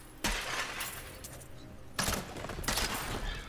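Grenade ability in Diablo 3 played as a Demon Hunter: sudden loud bursts of crackling, shattering explosions, a long burst followed by a second cluster after a short lull, with no talk.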